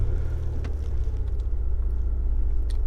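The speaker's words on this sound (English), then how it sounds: "I am going to start up the car really briefly" A 2020 Nissan Murano Limited engine idles with a steady low rumble close by, a smooth continuous hum with a few faint higher clicks on top.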